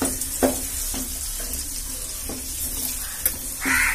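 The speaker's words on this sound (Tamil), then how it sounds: "அதை கிண்டி விட" A frying mixture with garlic sizzles in a pan with a steady hiss while a utensil scrapes and stirs in regular strokes, close by.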